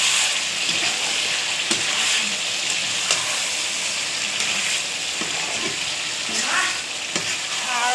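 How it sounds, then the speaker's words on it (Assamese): Duck meat simmering and frying in a pot with spices, turmeric, salt and chili, giving a steady close sizzle and bubbling hiss throughout, with occasional stirring scrapes. "হাঁহৰ মাংস উতলি আছে।"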